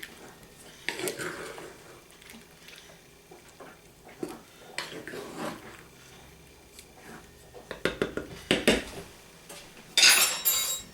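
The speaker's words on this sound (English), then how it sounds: "let's stir these dumplings up in here" Peach cobbler dumplings are stirred in a pot in a home kitchen. Scattered scrapes and clinks of a utensil against the pot rise over quiet background noise, with a sharper metallic clatter near the end.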